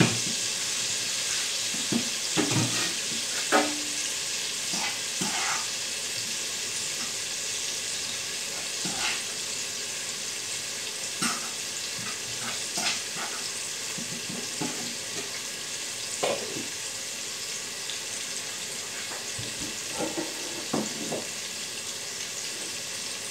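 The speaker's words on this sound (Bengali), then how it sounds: "একটু ভেজে নিচ্ছি" Shrimp and turnip fry in a pan with a continuous hissing sizzle, punctuated by repeated scraping and clinking as the mix is stirred, with no voices.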